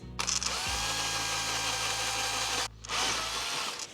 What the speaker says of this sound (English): I'm just going to drill those and then bolt it on.